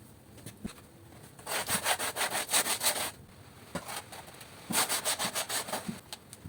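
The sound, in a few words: sanding a wooden shelf with sandpaper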